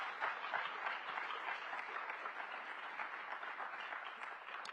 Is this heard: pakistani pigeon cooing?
no